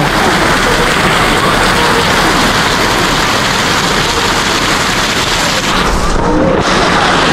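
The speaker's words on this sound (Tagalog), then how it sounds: "mas malalim ngayon yung tubig dahil nga ang lakas ng ulan, walang tigil, no?" Heavy, unbroken rain pours down during flooding, a dense loud roar that fills the whole stretch with no pause.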